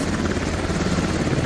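A helicopter flies in the video game Escape from Tarkov, its rotor and engine producing a loud, steady, dense whir that holds throughout without a break.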